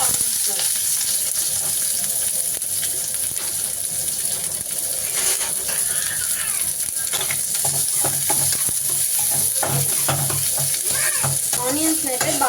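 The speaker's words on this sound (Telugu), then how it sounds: "బాగా ఫ్రై చేయాలి గోల్డెన్ బ్రౌన్ కలర్ వచ్చే వరకు" Green chillies and mustard seeds fry in hot oil in a pan, a continuous bright sizzle with crackling pops and occasional scraping stirs throughout.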